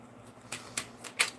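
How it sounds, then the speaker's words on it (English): Tarot cards shuffled by hand, giving four quick papery riffles spaced a fraction of a second apart, close and fairly quiet, each burst sharper than the last. "I just felt called to shuffle some cards"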